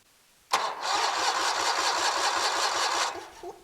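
A Kohler 23 HP engine cranks loudly and steadily for about two and a half seconds with a rapid, even rhythm, then stops without catching. No one speaks.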